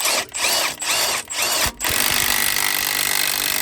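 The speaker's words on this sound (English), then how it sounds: "Tiny impact for the win." A small impact wrench works a part off a 1978 Dodge W100 Power Wagon truck, firing three quick close buzzing bursts, then one continuous loud run.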